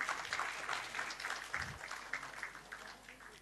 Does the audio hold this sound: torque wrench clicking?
no